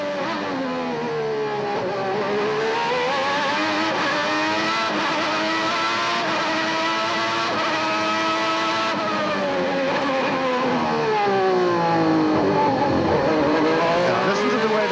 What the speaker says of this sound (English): listen to the way the Ferrari engine struggles to pick up from low down and is not as clean as the Honda through the slow corners